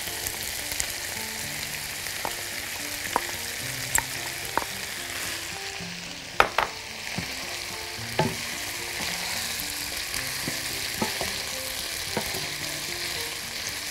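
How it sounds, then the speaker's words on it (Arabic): Peas and carrots sizzle steadily as they are stirred and fried in a pan, with the constant fry broken by scattered spoon scrapes and light taps. "نحط دلوقتي البسلة والجزر اللي عندنا"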